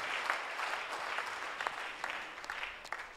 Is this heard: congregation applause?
yes